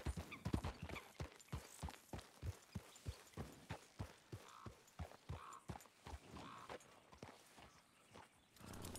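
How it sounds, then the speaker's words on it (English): In the Western video game Red Dead Redemption II, a horse's hooves clip-clop in a steady walking rhythm, close and fairly even, keeping up a regular beat of strikes for several seconds. "Look at that horse there."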